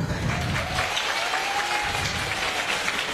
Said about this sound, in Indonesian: Kok tepuk tangannya mulai lemes nih?